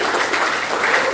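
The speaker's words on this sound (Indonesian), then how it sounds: "tepuk tangan untuk Mas Guntur ya" Brief applause from a small group honoring Mas Guntur during a teacher mentoring session, a short wash of clapping lasting about a second.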